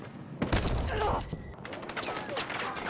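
A grenade explodes in a combat video game, a sudden loud boom with a burst of crackling, followed by scattered gunfire and clatter. A voice shouts over the noise.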